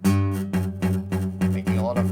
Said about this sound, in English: making a lot of buzz noises.